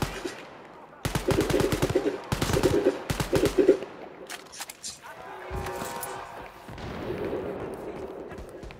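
Rapid automatic bursts from a new laser gun in a video game crackle loudly in three quick volleys near the start, then fade into a steadier wash of game noise, with a voice talking over parts of it.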